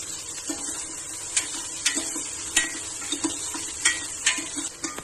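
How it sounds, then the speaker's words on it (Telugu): Ingredients frying in a pressure cooker, a soft sizzle broken by intermittent metallic scrapes and clinks of stirring, close and alone. "చూసారు కదా బాగా వేగిపోయినాయి."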